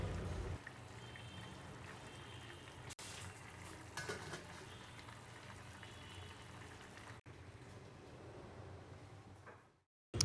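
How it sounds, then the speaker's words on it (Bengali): Potatoes boil in a pot with garlic, onion and green chilies at an outdoor picnic, giving a steady, dense bubbling hiss that runs close and unbroken for several seconds, briefly cut twice, then fading out near the end. "আলুটা এখন বলক চলে এসেছে"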